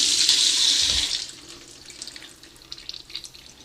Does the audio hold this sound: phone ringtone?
no